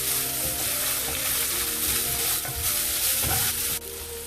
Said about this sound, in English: Fry the onions till they are tender